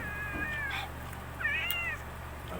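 Someone imitates a cat with two drawn-out, wavering meows, each about half a second long, close and fairly soft over a low steady hum.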